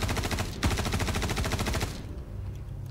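Automatic anti-air fire in Star Citizen played in VR, a loud rapid stream of evenly spaced shots with one short break, then a stop into a lower rumble.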